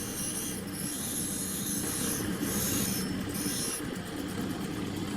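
A fused glass cabochon is hand-ground around its edge to form a chamfer, giving a continuous gritty rasping and rubbing sound, close and fairly loud with slight rhythmic swells.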